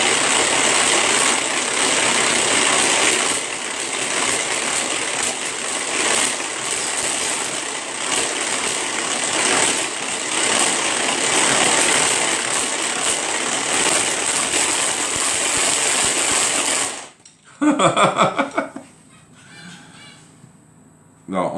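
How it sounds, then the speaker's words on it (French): An electric mixer on speed 1 whips egg whites in a kitchen, a steady loud whirring hum that stops abruptly near the end, followed by brief clattering. "Maintenant, je vais monter mes blancs en neige."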